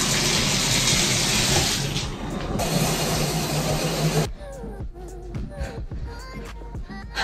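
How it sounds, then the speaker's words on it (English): A shower runs with a loud, dense hiss of spraying water for about four seconds, then cuts out abruptly, leaving quieter drips and small splashes after it stops. "Okay, another shower."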